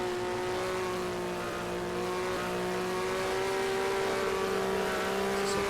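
A race car engine in NASCAR Racing 2003, a stock car at the 1991 Goody's 300, holding a steady loud drone with tonal harmonics that drift slightly as the throttle changes.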